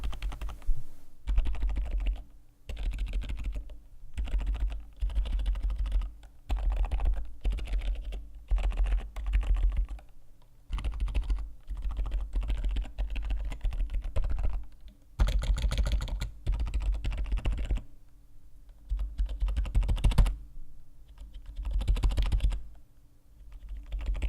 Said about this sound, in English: Here's a sound test of that.